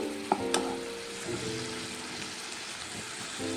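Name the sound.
sugar syrup boiling for Mysore pak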